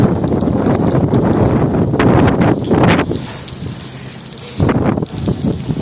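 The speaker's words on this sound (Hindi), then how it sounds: "बारिश रुक नहीं रही है यार।" Rain falls with gusting wind at Süleymaniye Mosque in Istanbul, a rough, rumbling wash of wind buffeting the microphone in surges over the steady patter, with no voices.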